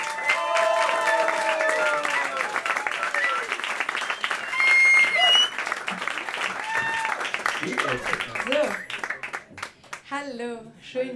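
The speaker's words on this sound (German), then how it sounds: "Applaus!" A comedy club audience claps and cheers for a stand-up comedian taking the stage, loud at first and thinning out, with an emcee's amplified voice and then the comedian starting to speak over the tail.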